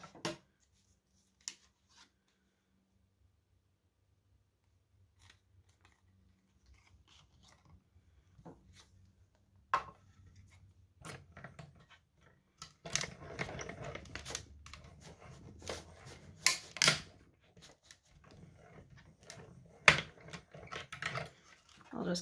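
A mini die-cut and emboss machine cuts out a set of letters from a die. Sparse clicks come first, then a denser run of rattling, ratcheting mechanical clatter as the plates are cranked through.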